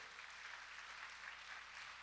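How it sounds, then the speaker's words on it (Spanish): Church congregation applauding, dense continuous clapping from many hands at a fairly distant, faint level. "déselo aplauso, Señor, déselo fuerte, por favor"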